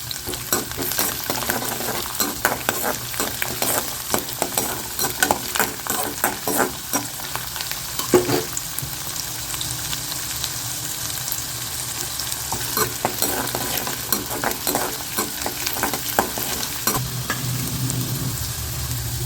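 Small native garlic cloves frying in oil in a pan for spicy chutney, a steady close sizzle broken by frequent scrapes and clinks of a spoon stirring, with no talking.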